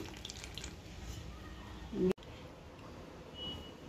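Faint, steady running water pours into flour with a soft hiss, broken by a brief louder knock midway.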